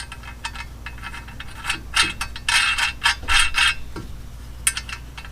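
Wrenches tightening jam nuts onto header studs of a 2001 Ford F150 SuperCrew, with sharp metallic ratcheting clicks and clanks in irregular bursts, close and fairly loud.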